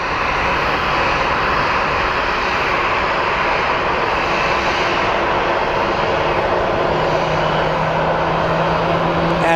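A passenger jet bound for Salt Lake City roars loudly and steadily at Sky Harbor International Airport in Phoenix, a broad continuous engine rush that holds for several seconds with no talking.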